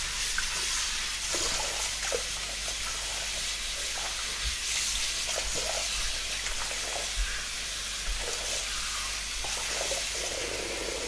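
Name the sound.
water rinsing a clogged van cabin air filter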